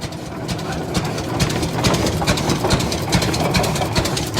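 A 1912 Rumely F tractor engine runs steadily up close, a dense rhythmic popping chug with a mechanical clatter that continues without a break throughout.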